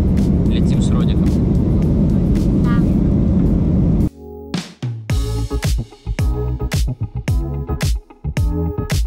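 Airliner cabin during flight: a loud, steady, broadband roar that fills the space, then a voice speaks close over a quieter drone.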